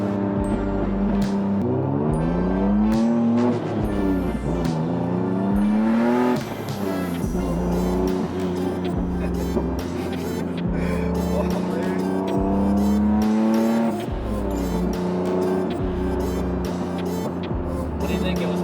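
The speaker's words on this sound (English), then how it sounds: "in the higher gears the clutch will slip more than in the lower gears" Turbocharged Acura RSX accelerating through the gears with a slipping clutch, engine note climbing and dropping in repeated rising sweeps, loud and close throughout with a steady rumble beneath.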